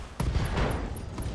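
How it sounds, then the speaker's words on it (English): Ammo explosion in the BattleTech video game, a booming blast that erupts near the start and rolls on as a dense, crackling burst of gunfire-like detonations for over a second. "Oh man, a very fortunate ammo explosion."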